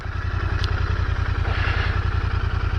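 A Royal Enfield 650 Continental GT rides slowly in second gear, its twin engine giving a loud, close, steady low thrumming pulse throughout.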